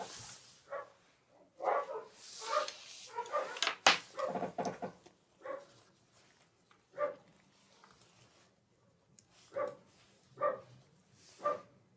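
Female dogs bark in repeated short bursts, irregular and moderately loud, with some barks overlapping and a few quieter yips between them.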